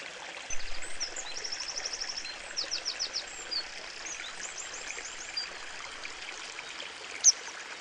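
A forest stream trickles softly over a sandy bed in a dark woodland, a faint continuous flow beneath bursts of bird chirps and calls.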